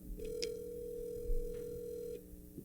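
Telephone ringback tone while placing a call, a single long steady ring lasting about two seconds, clear and fairly close, with no one talking.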